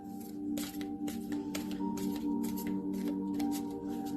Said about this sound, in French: faire un petit tirage de cartes